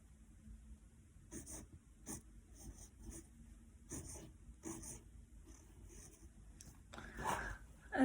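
Pen or pencil writing a word by hand on a paper page, with soft scratchy strokes coming in short bursts, close and quiet, with a low background hum.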